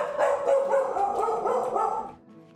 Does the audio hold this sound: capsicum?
no